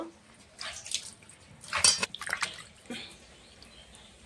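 Cut butter fish (bata) being rinsed by hand in water, with soft splashing and trickling that rises in a few brief bursts and fades between them, fairly quiet and close.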